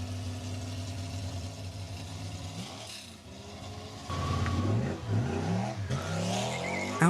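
An Ascari KZ1-R LM race car, a road-going version of a GT3 racer, revs and accelerates at moderate distance, with the engine note rising and falling through gear changes and a brief tire squeal.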